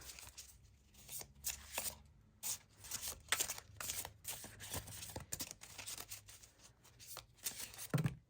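Tarot cards are shuffled and handled by hand: soft, quick riffles, flicks and rustles come in bursts, close but quiet, with no voices.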